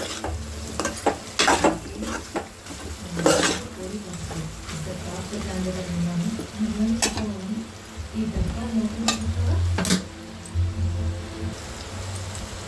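A spoon stirs coriander powder and masala into a sizzling spicy chicken fry, with sharp scraping clicks against the pan at irregular intervals over a low frying hiss, while someone talks throughout.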